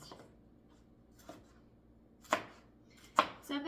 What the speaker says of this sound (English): I'm just gonna go ahead and chop the rest up into dices